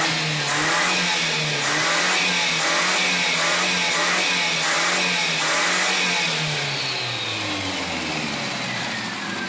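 A car engine fitted with a fuel diffuser revs up in repeated pulses, its tone climbing and holding, then winds down toward a lower steady note near the end; loud, close and without talk.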